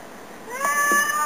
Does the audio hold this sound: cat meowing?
yes